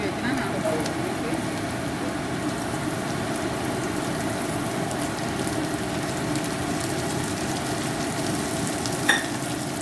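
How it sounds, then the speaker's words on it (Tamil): Onions frying in oil until golden, a continuous moderate sizzle and crackle with a soft clatter near the end, no talking. "வெங்காயம் எல்லாம் கொஞ்சம் பொரிஞ்சு வந்துட்டு onion fried little golden colour வெங்காயம் பொரிஞ்சது"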